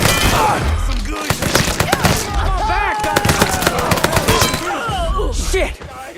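Rapid gunfire in Mafia III, loud bursts of shots and crackling impacts over several seconds, with shouted voices and game music mixed in.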